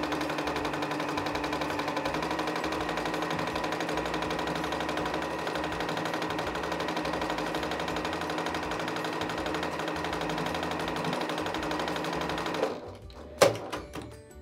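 A sewing machine runs steadily stitching a quarter-inch seam in scrap fabric for a fabric basket, a continuous even mechanical whir for about twelve seconds that stops abruptly, followed by a couple of sharp clicks.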